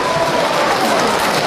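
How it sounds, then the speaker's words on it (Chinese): Audience applause at a Yue opera showcase, welcoming a guest performer on stage, a dense, loud, continuous wash of clapping from a crowd. "掌声欢迎王志"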